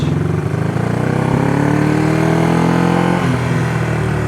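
A vintage Honda CB360 motorcycle engine idling and running close by, a steady low throbbing drone with a slight dip in pitch near the end, loud and alone with no voices.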